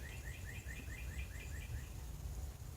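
Faint, quick bird chirps repeat in a short run over a steady low rumble of background noise, then fade out.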